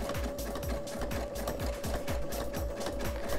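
A sewing machine stitches oven mitt fabric around curves, a rapid, even mechanical chatter with regular needle strokes, close and alone.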